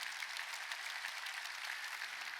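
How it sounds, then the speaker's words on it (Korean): A church congregation at a Sunday worship service claps together, giving a dense, even wash of applause that holds steady throughout without pauses. "박수 치라고요"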